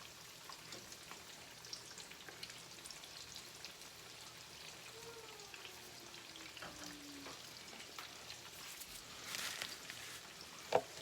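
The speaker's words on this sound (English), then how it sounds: "our 3 in the pan frying up" Breaded chicken cutlets for chicken parmesan fry in a pan with a quiet, steady crackle and hiss under faint background hum, with a few louder pops and clatters near the end.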